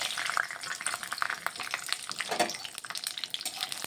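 Peanuts fry in mustard oil in a wok, giving a steady, close crackle and sizzle with scattered pops throughout.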